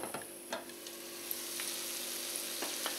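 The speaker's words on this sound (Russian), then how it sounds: "Теперь я буду под закрытой крышкой продолжать обжарить." Zucchini patties fry in a covered pan, a steady close sizzle and crackle running throughout with a few brief louder pops and spatters.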